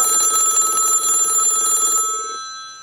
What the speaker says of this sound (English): Our phone will now ring to personal and invited callers who press 5 on their telephone.